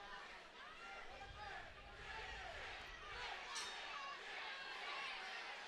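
Crowd at a cage fight during the third and final round, a steady roar of cheering and indistinct shouting filling the arena, fairly distant and continuous without pause.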